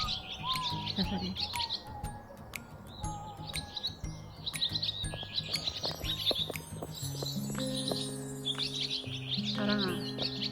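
On a flowering spring day, feeding birds twitter in repeated high, chattering bursts, with a few whistled notes early on, while steady low tones and scattered clicks sit beneath them.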